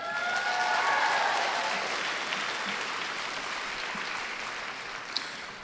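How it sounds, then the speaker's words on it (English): Audience at the White House Forum on Asian Americans, Native Hawaiians, and Pacific Islanders applauds itself, a full wash of clapping that peaks early and slowly thins out, with a brief sharp knock near the end. "can you just give ourselves a round of applause?"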